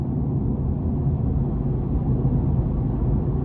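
A 2017 Mercedes-Benz C300 with a 2-liter turbo engine cruises on the interstate in eco mode, a steady, muffled low-pitched hum and road rumble heard from inside the cabin.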